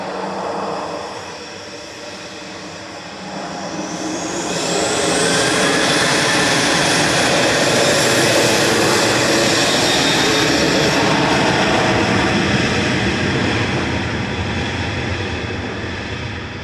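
An aircraft arriving from Aberdeen at Manchester Airport: jet engine noise swells from a moderate hum to a loud, sustained roar with a rising whine, then holds steady as it passes close by.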